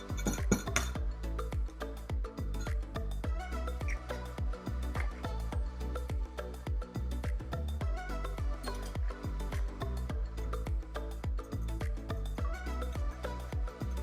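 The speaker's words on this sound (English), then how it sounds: "You're going to whisk in a bowl 1 egg and the buttermilk." An egg and buttermilk are whisked together in a shallow bowl, producing a steady stream of rapid, close metallic clinks and taps against the bowl that continue throughout with no talk.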